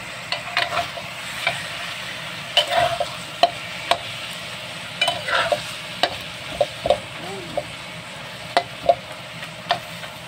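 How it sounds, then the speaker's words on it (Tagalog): Barbecue meat sizzles in a frying pan with a little oil, a steady fry under repeated scraping and stirring clicks from a utensil, close and fairly loud, with no talking. "Kaya barbecue sa kawali na lang ang ginawa"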